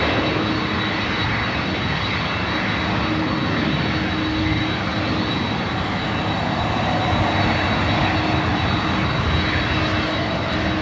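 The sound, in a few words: Southwest Airlines Boeing 737 MAX 8 jet arriving at LAX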